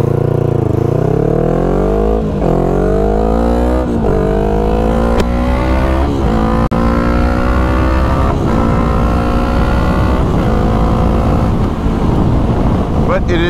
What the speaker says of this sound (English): The little exhaust is quite obnoxious.